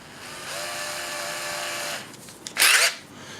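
Small handheld drill spinning a snipped finishing nail to bore pilot holes in wood, a brief steady whine followed by a short higher burst as the bit bites.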